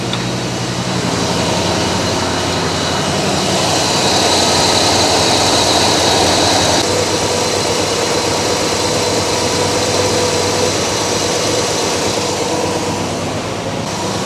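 A 1965 Chevrolet El Camino's engine idles steadily after an idle mixture screw adjustment, a continuous loud rumble running unbroken for the whole stretch with no talking.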